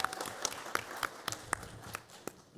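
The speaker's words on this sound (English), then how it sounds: "we're going to clap now" An audience at a Comic-Con panel gives brief applause, a thin patter of scattered claps with sharp individual hand strikes standing out at close range, fairly light and short.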